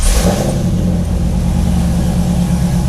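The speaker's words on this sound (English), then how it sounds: "The engine makes a little bit more noise, there's some more squeaks and rattles" A 2001 Chevrolet Corvette C5 V8 engine runs with a steady, loud, low rumble after a brief rise at the start, heard close up from inside the car with no voices.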